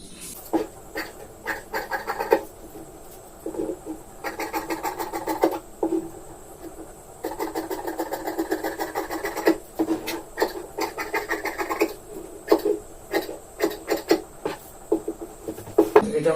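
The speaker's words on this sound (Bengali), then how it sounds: "তো এবার আমি কেটে দিচ্ছি এটা।" Scissors snip through blouse fabric in quick, close crunching bursts of cuts separated by short pauses, fairly quiet, with a faint background hum.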